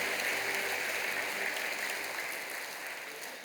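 A church congregation claps in welcome during a Sunday worship service, a steady dense wash of applause that slowly fades toward the end.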